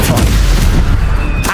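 A Stupefy spell cast in the video game Hogwarts Legacy, a heavy booming magical blast with a deep rumbling impact, loud and close, filling the short moment.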